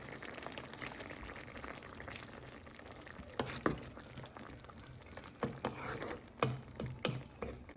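Tomatoes dropped into a prawn and potato curry (chingri bhuna) frying in a pan, with a steady sizzle broken by several sharp stirring and tossing clatters toward the end.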